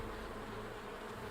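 A dense swarm of thousands of bees buzzes in a constant, close drone, steady and unbroken throughout with no voices over it.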